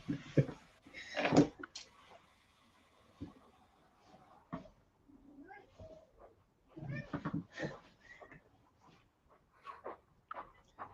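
A house cat meows at a door, several separate calls spaced out over the clip, fairly close and moderately loud in a quiet room with a little background noise.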